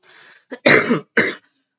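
A few hoarse coughs and a throat clear, close by: a soft rasp, a short burst, then two loud harsh coughs with a brief gap between them.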